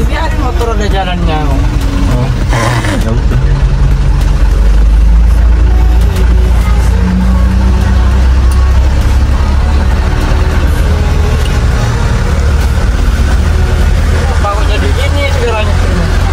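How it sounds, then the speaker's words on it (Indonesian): A motorcycle engine runs on a road, a constant low rumble with rising and falling revs, heard close alongside busy chatter and overlapping voices. "Ini ada motor di jalannya."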